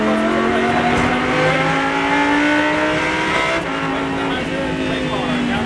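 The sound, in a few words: Lamborghini Super Trofeo race car driving on track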